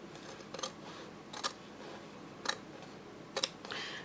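Scissors snip fabric along a marked line for a bowler bag, in four short, crisp cuts spaced about a second apart, close up and fairly quiet, with no talking.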